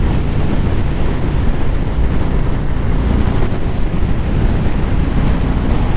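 Steady, loud wind noise roars past the microphone on a motorcycle ride, broadband and unbroken throughout with no talking.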